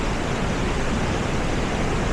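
A waterfall in Khao Yai, Thailand roars as a loud, steady, dense rush of falling water with no pauses.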